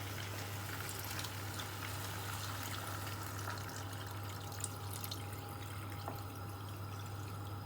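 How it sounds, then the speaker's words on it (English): Water poured steadily from a measure into a soup pot for lamb and vegetable soup with chicken stock, a continuous soft splashing and trickle held close throughout, over a constant low hum with no talk. "now I'm going to put in 4 cups of water."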